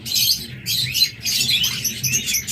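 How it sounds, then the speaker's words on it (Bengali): A pair of high-mutation lovebirds chirp rapidly and shrilly up close, a busy overlapping stream of high tweets and squeaks with no talking. "এখানে রয়েছে একটা হাই মিউটেশনের লাভবার্ড, একদম রানিং চমৎকার এই পেয়ারটা।"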